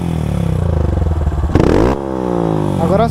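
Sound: Honda Start 160 motorcycle with GRS exhaust revving

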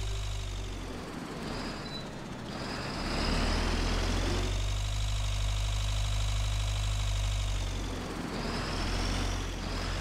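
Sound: tractor engine in video game Agricultural Simulator 2013

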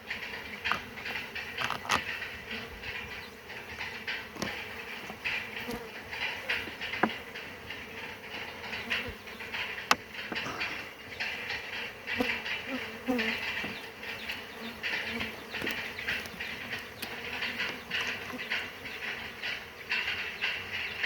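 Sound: honeybees buzzing at hive

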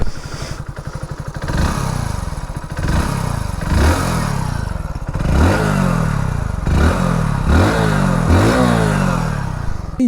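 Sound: 2024 Hero Splendor Xtec motorcycle engine running

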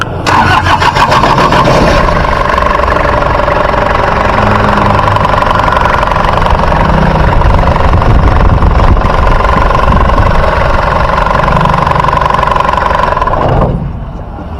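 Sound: Toyota Qualis engine starting and idling

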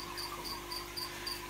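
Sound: frogs croaking at night

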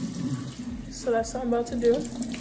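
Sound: running water while washing hair

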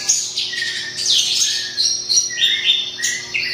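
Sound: beranjangan (bushlark) bird singing

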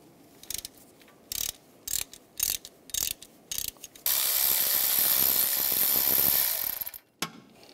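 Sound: ratchet with E14 socket removing belt tensioner bolt

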